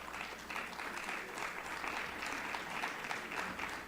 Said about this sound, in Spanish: Ese aplauso lo empezó Gonzalo Galdós, sí lo escuché.